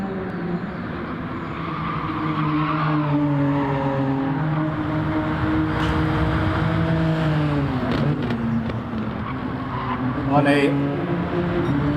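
Group 3 race cars roar around a narrow circuit in a sim racing event, engines rising and falling through gear changes with a tyre squeal near the end, under steady commentary.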